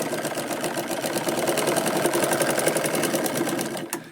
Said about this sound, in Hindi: यहाँ पे हम सिलाई लगाएंगे